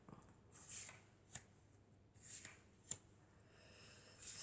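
Oracle cards picked up and handled one after another during a French daily card reading, giving close, quiet papery slides and a few sharp snaps at an uneven pace, with no talk over them.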